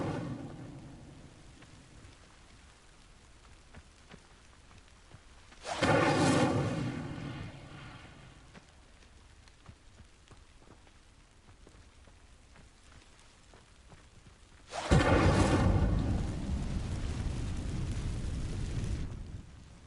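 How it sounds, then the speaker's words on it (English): Incendio fire spell igniting dry vines in Hogwarts Legacy, heard as two loud roaring whooshes of flame, one short burst near six seconds and a longer sustained blaze from fifteen seconds, over quiet ambient game background. "These dry vines are one spark away from becoming kindling. Incendio!"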